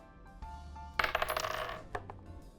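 Dice rolled for initiative in a tabletop role-playing game clatter and rattle on a hard surface in a bright burst lasting under a second, then a couple of smaller clicks as they settle, close by with no talking.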